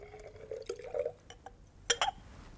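Sodium hydroxide solution poured into acid in a glass conical flask, with a quiet trickle and faint glassy clinks, ending in two short sharp taps of glass.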